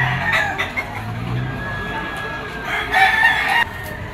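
Roosters at a poultry auction market in Lipa, several crows ringing out near and loud over clucking and a busy crowd murmur, with people talking in the background.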